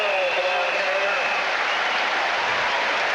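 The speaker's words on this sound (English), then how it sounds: "Oh, that'll bring the crowd up." Stadium crowd at a 1988 Tennessee versus Auburn college football game, a steady loud roar of cheering and applause filling the clip, with faint whistles or horns near the start.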